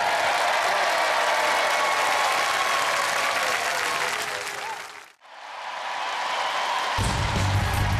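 A Robot Wars studio audience claps and cheers in loud, dense applause that fades to near silence around the midpoint, then swells back up with a low rumble at the end.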